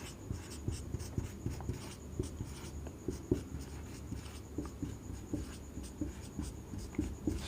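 Pen scratching steadily across paper while someone works through physics and chemistry calculations by hand, a close, continuous stream of small strokes and taps with no talking.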